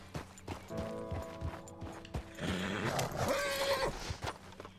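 A horse in Red Dead Redemption II whinnies and snorts amid clip-clopping hooves and game noise, a fairly close, agitated neigh rising over a busy soundscape.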